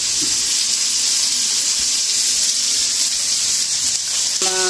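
Onions sautéing in a pan give a steady, loud, even sizzling hiss that runs without a break, with faint clinks beneath it and no voices.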